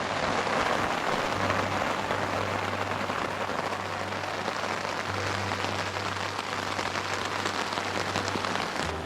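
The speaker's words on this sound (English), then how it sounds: "This rain has been going on for over an hour now." Rain patters steadily on a tent along the Kungsleden trail in Sweden. The dense, even hiss of drops on fabric stays loud and close, with a faint low hum underneath.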